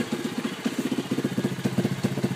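Small pitbike or dirtbike engine running with its exhaust escaping through a hole, a close, steady rhythmic chugging putter with regular pulses throughout.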